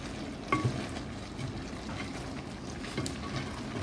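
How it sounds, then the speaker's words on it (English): Thick coconut drops syrup is stirred in a pot, giving faint, soft scraping and bubbling sounds with a couple of louder knocks early on, heard alone without talk. "Just keep stirring it and watching it, the consistency."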